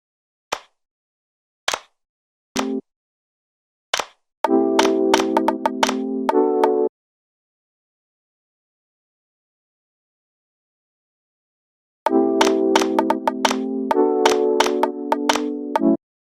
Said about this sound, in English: Now I'm gonna lay down the claps.